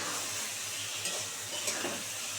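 Fish roe and fish maw fry in a pan with a steady, dense sizzle and faint stirring scrapes, close and continuous with no talking.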